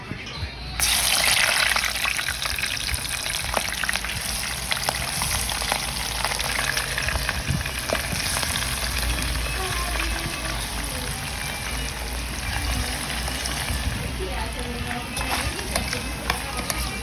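Chicken seasoned with turmeric and salt fries in a mini rice cooker, giving a steady, close hiss and crackle throughout, with faint watery gushing mixed in and no clear talk.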